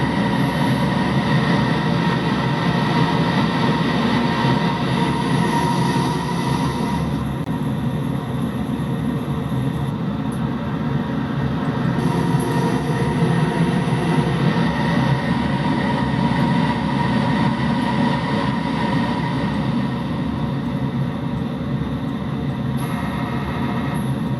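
A locomotive in the Train Simulator video game runs on a route out of Arizona, producing a loud continuous rail rumble and engine drone with faint shifting high tones, steady throughout with no voices.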